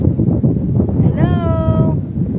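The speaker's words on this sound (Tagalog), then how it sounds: "Mahangin talaga." Strong wind rushes continuously across a microphone on a mountainside, a loud broadband roar that gusts unevenly, with a brief tonal horn-like sound rising in the middle.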